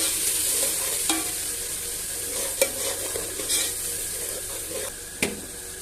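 Masala spices with turmeric and crushed red chilli fry in a pan with a steady close sizzle, punctuated by several sharp spoon clinks and scrapes as it is stirred.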